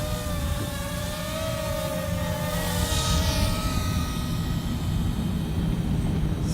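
A small DJI Tello drone flies nearby with a steady buzzing whine of rotors, the pitch shifting slightly as it maneuvers, heard alone without talk.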